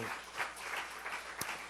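Audience applause at a church seminar, a steady wash of many hands clapping together across the whole stretch, fairly even in loudness with one sharp knock near the end.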